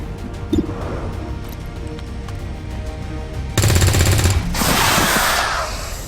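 Gunfire in the XCOM 2 video game comes in as a dense burst of automatic fire, then a loud broadband crash, heard over steady background game sound.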